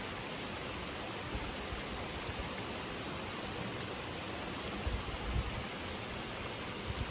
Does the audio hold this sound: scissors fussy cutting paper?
no